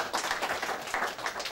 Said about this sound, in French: Je vous demande d'applaudir Moriba, qui est le créateur de la société